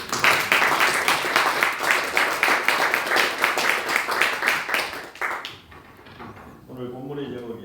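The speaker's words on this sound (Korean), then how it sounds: "다시 한번 박수 부탁드립니다." Lively audience clapping at a church fundraising gathering, loud and steady for about five seconds before fading out, then a speaking voice continues.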